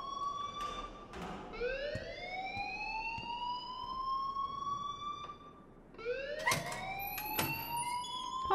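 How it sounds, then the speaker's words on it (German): Rising, wailing siren-like alarm in the Life is Strange video game, sweeping upward in two long cycles over a quiet background with a few sharp knocks. "please turn off that alarm"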